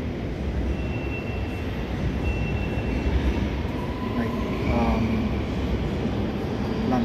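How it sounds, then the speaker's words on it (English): An underground train rumbles steadily through a station with a broad, continuous roar. Faint wheel squeals rise briefly partway through, and no voices are heard. "and the underground train"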